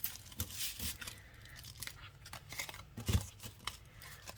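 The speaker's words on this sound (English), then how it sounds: "usually his decks are fairly easy to shuffle the way they're made" A tarot deck of cards is shuffled close up in soft, continuous papery riffling and rustling, fairly quiet with no talking.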